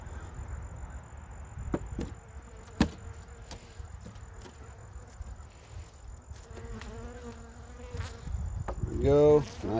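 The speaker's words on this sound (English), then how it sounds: "There we go, nice little bundle of bees there." Honey bees buzz around an open hive during November feeding with bee candy, a steady close hum with individual bees whining past, plus occasional knocks and clicks of hive handling.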